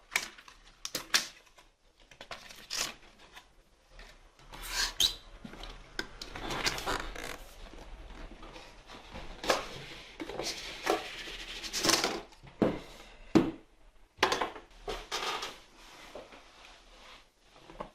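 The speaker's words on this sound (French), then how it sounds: "Donc la boîte du HyperX, on enlève." A HyperX Cloud II gaming headset box is opened and emptied, with repeated rustles, scrapes and light cardboard taps coming in short uneven bursts at close range, with no talking.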